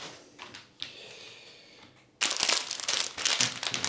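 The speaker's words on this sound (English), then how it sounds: "please excuse the rustling noise" Plastic bags of Lego Technic pieces for a concrete mixer truck set rustle and crinkle close up, faint at first with a few soft crackles, then loud continuous crumpling.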